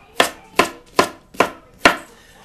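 Five crisp knife strokes on a cutting board, evenly spaced about every 0.4 seconds, slicing zucchini and squash lengthwise in a home kitchen, close and distinct with no talking.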